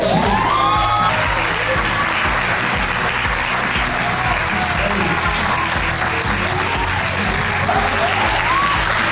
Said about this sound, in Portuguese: E eu quero chamar com uma salva de palmas o Rainer Cadete.